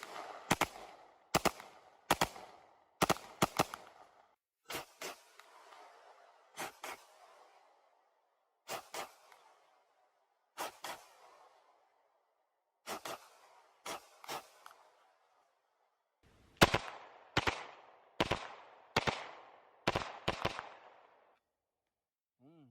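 A gun firing shots, spent shells ejecting back toward the shooter, a series of sharp reports in quick bursts and singles with pauses between them, ending in a rapid run of closely spaced shots.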